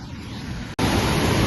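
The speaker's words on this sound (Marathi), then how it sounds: "हे बघा काय मोठा धबधबा आहे आणि किती छान दिसतंय" A large waterfall pours with a dense, even hiss, cut by a brief dropout before the roar returns louder and fuller, with no one speaking.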